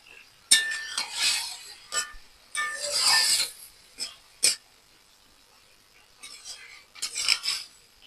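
Spoon scraping and clinking against a pan while greens with spices and salt are stirred, in several brief bursts separated by short pauses.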